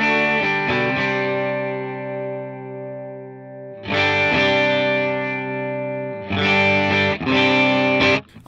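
Clean electric guitar played through a Line 6 HX Stomp with a stereo dual-amp preset, ringing sustained chords that let each one decay before fresh strums return near 4 and 6.5 seconds, loud and alone.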